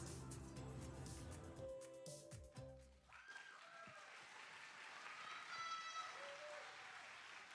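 An audience claps at the Orange County Sustainability Decathlon as Team Roots opens the Roots House. The applause is faint and crowded, then stops after about three seconds and quieter background sounds follow.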